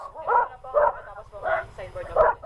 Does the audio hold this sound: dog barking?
yes